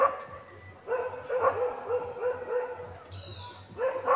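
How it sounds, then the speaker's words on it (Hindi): Village dogs bark repeatedly in a field below in the hills. The barks come in uneven bursts at middle distance, with a brief high whine near the end. "ये कुत्ते कहाँ भोंक रही है"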